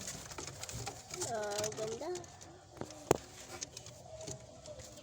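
A pigeon coos in short, warbling phrases close by, with a few other soft bird calls and clicks around it; someone speaks briefly during the clip.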